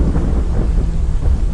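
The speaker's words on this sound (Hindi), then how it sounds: "बाहर तूफान बढ़ता जा रहा था। बारिश खिड़कियों पर पत्थर की तरह पड़ रही थी।" Thunderstorm with heavy rain beating against windows, a loud, continuous low rumble with dense rain noise, no voices.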